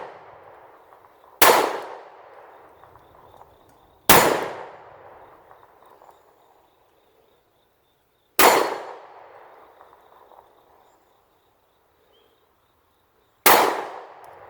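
Four slow, spaced shots from a Kimber Solo 9mm pistol firing Sig Sauer ammunition, each a loud, sharp crack with a reverberating tail that fades before the next, with no talk.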